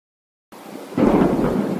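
Heavy rain with rolling thunder in a Hindi cartoon story, silent at first, then a steady loud downpour joined by a deep low rumble swelling in the second half, with no talking.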